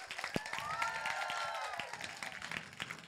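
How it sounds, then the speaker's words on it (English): A school Christmas concert audience claps for an award winner, dense clapping with scattered cheers and a few sharp claps, while a voice or music tone drifts over the top. "Keep clapping, keep whooping."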